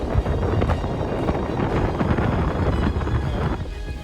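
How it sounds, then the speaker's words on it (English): Strong wind during a heavy snowstorm, a continuous loud roar buffeting the microphone with rumbling gusts throughout. "The wind's crazy"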